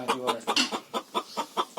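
A three-year-old hen clucking after laying a white egg, a rapid series of about nine loud, close, rhythmic squawking clucks.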